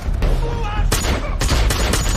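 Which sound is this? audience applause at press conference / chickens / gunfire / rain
gunfire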